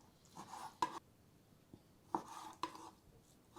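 Knife blade striking a cutting board as chicken is cut into pieces, a handful of sharp separate chops spaced irregularly, close and fairly quiet.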